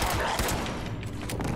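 Rapid pistol fire aimed at feral ghouls in Fallout 76, a close, loud string of shots packed into a short burst over game background noise.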